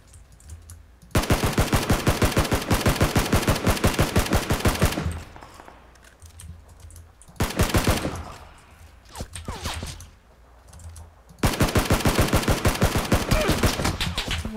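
Automatic gunfire in the battle-royale shooter PUBG, dense rapid bursts lasting several seconds each, with three loud volleys separated by quieter gaps of scattered shots and faint background game noise.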